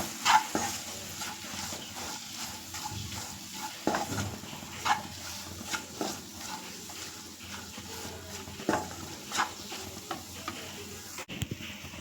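Bamboo shoot and green gram frying with chilli powder in a pan, a quiet sizzle broken by repeated scraping stirs and taps of the spoon at uneven intervals, with no voices.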